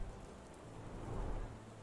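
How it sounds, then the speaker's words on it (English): Steady rain falling in Sherlock Holmes: The Awakened video game, a continuous even wash of downpour with a low rumble beneath, no voices. "It's been raining for like 15 minutes."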